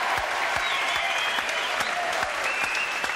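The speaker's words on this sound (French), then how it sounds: "applaudissements pour cette jeune fille, pour mademoiselle" Studio audience at a French television variety show breaks into sustained applause, a dense, loud, even patter of many clapping hands with a faint crowd murmur, no talking over it.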